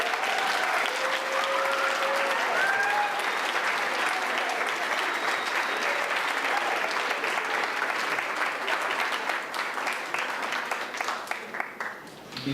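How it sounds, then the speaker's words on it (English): Sustained audience applause for eighth grade graduates at a 2018 Old Town Academy graduation ceremony, steady and full for about ten seconds before thinning out, with faint voices and a few whistles mixed in. "Let's give our 8th graders a round of applause."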